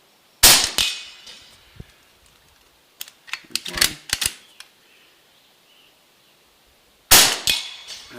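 Shots from an AEA .30 caliber air rifle at an outdoor range, with a sharp report at the start, a cluster of quick cracks and impacts in the middle, and another loud shot near the end, with quiet gaps between them.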